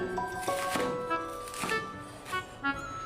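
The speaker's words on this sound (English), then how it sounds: "Then slice it diagonally into small pieces." A kitchen knife slicing washed cabbage diagonally into small pieces on a cutting board, a series of crisp irregular chops with short pauses, close and fairly clear over quiet background music.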